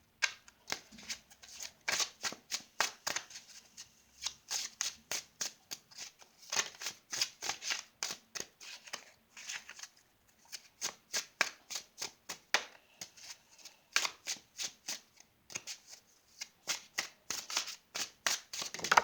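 Gilded Tarot cards being shuffled by hand close up: repeated quick riffling bursts in irregular runs, fairly quiet, with no talking.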